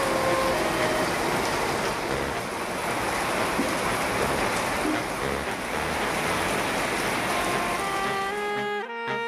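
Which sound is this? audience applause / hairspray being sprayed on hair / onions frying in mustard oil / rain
rain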